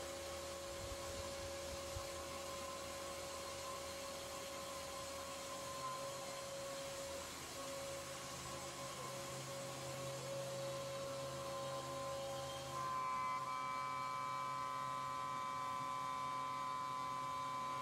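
CNC router cutting with a 1/4 inch bit, a steady loud whine with a high tonal hum and dense noise that shifts pitch near the end as the cut changes, with no talking.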